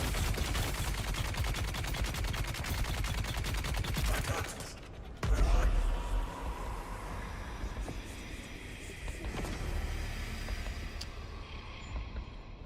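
Dense rapid automatic gunfire rattles continuously in the Dune Awakening video game, then stops abruptly after a heavy impact, leaving rumbling engine-like background noise with occasional faint speech.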